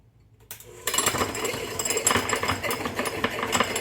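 Electric mixer beating egg yolks with sugar for tiramisu, starting abruptly after a short silence and then running as a continuous buzzing whir with a rattling texture.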